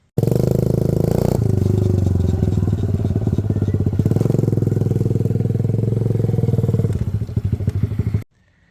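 A 2003 Suzuki DRZ110 motorcycle engine runs loud and close in first gear while coasting, with a steady rattling, ticking rumble that shifts in pitch partway through and then cuts off near the end.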